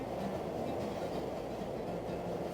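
A train running on rails, heard as a steady, moderately quiet rolling rumble with a faint rhythmic clatter of wheels over track joints, continuous and alone without voices.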